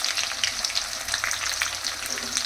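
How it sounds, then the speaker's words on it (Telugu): Chopped onions frying in hot oil for chicken kurma give off a dense, continuous sizzle with crackling pops, close and steady for the whole stretch. "ఆయిల్ అయితే వేడెక్కిపోయింది. కట్ చేసి పెట్టుకున్న ఆనియన్స్ వేసేసుకుంటున్నాను"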